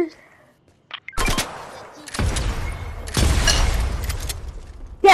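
Fortnite gunfire, several loud bursts of rapid shots with booming low ends, separated by brief lulls, close and dominant with a sharp final shot at the end.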